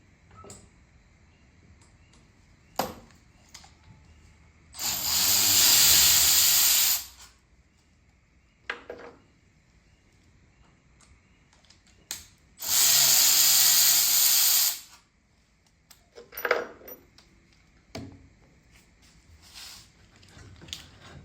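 A power tool on a Briggs & Stratton Big Block engine gives two loud, hissing bursts of about two seconds each while removing the cylinder head studs, separated by quiet clicks and clanks of handling.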